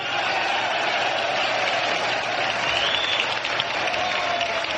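Dense, steady applause fills the hall as Frente Liberal members cheer Tancredo Neves being proclaimed President of Brazil in the 1985 presidential election, sustained and even throughout.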